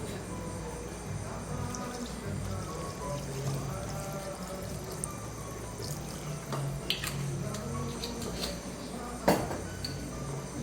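White wine poured into a pan of squid for black rice, a quiet steady liquid pour running through the whole stretch with faint clinks of cookware and a brief sharp knock near the end.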